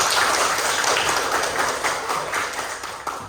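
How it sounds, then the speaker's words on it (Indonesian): Classroom applause from students after a teacher's call to clap, a dense, steady patter of many hands lasting a few seconds with no talk over it. "Iya, tepuk tangan."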